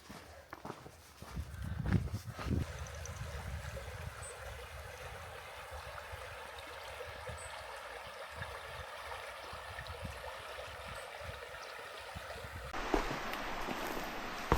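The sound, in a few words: peaceful river flowing beside a forest path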